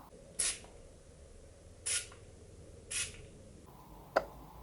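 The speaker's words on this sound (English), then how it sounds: "I'm going to spray some right here on my wrist." Three short, sharp hisses of Je Reviens Couture eau de parfum by Worth sprayed from the bottle onto a wrist, evenly spaced in a quiet room, followed by a faint click.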